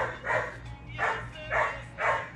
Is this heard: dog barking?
yes